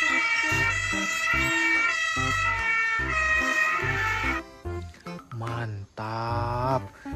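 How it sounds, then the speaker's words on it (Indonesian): A toy fire engine ladder truck blares a loud electronic siren close by, a repeating wailing and whooping pattern with low honks, breaking into shorter bursts and changing tones near the end. "Wadidaw. Mobil tangga pemadam kebakaran."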